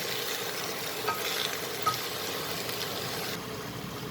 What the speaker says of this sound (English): fry this for few seconds so that our soya chunks have a lovely fried flavor